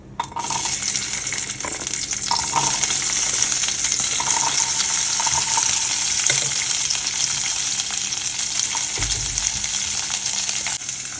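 Small shallots fry in a tablespoon of sesame oil for chutney, giving a loud, steady, continuous sizzle with a few faint clinks and stirring knocks.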